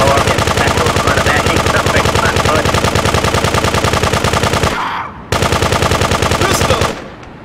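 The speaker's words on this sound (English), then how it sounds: "Machine gun!" A machine gun in the top-down game GTA 2 fires in a loud, rapid, unbroken stream of shots, cuts out briefly, resumes and then stops.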